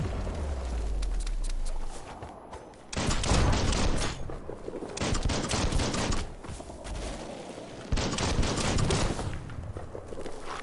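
Gunfire erupts in the video game Biomutant, with bursts of rapid shots and fusillades coming in waves. It sounds loud and close over a busy game background.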